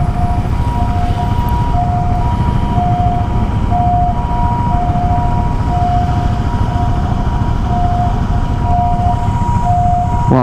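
An ambulance siren stuck in traffic behind an accident, a repeating two-tone wail heard faintly beneath a loud, steady rumble of engine and road noise from inside a car.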